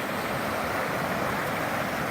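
Floodwater rushing through a swollen stream near a bridge, a steady, dense roar of churning water with no pauses, fairly loud and close, with wind buffeting the microphone.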